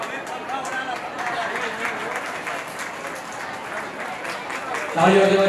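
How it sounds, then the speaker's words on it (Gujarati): A crowd at a family Bhagwat katha gathering applauds to welcome the chief host, a sustained mid-level clapping wash, with a voice cutting in loudly near the end. "તાળીઓથી વધાવીએ આપણા મુખ્ય યજમાન શ્રી પ્રફુલભાઈ જીણાભાઈ જેઠવા."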